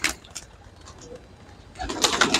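Pigeons of a pure Malwai breed from Punjab coo softly and repeatedly near a rooftop loft, with no talk over them.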